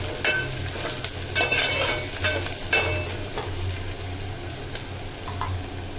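Onion and brinjal slices fry in a pan with a steady soft sizzle, broken by occasional scrapes and clinks of a stirring utensil, close and alone with no talk.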